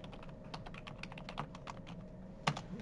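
Keys clack steadily on a computer keyboard in a quiet room, a rapid run of light taps with one sharper, louder stroke near the end, with no talking.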